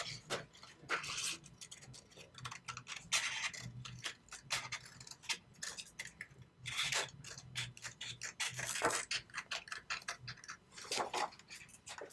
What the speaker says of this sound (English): now I'm going to cut out the notches